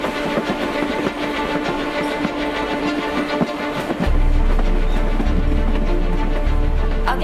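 A Mumbai-area local commuter train between Mira Road and Virar rumbles along steadily with rattling, clattering carriage noise, growing louder and heavier with a deep low drone in the second half.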